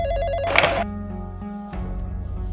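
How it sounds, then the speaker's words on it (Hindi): A telephone rings in a home, a short loud burst of bell ringing followed by a pause and then a fainter second ring, heard over a steady background music bed. "आपके बेटे का फोन आया है"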